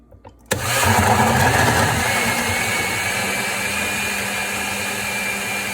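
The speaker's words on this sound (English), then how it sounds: "now I'm going to put everything on high speed, blend it all together" A blender starts with a sudden jolt and runs on high speed, giving a loud, steady motor roar with a grinding edge that holds evenly to the end, with no talk over it.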